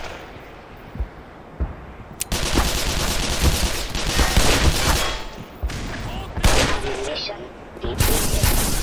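Gunfire in Black Mesa: Xen: loud, close bursts of rapid automatic fire in several separate volleys, broken by short pauses and occasional single sharp shots.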